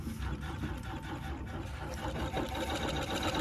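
National two-spool treadle sewing machine winding thread onto a bobbin, a continuous soft mechanical whir and rattle throughout, close and even in level, with no talk.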